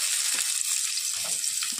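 Chopped onion fries in hot oil in a wok for ghugni, giving a steady, close hiss of sizzling with no talk over it.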